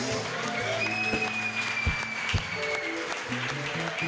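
A church congregation at a regional youth gathering claps steadily through a service, a continuous wash of applause with sustained music tones underneath and a couple of louder thumps.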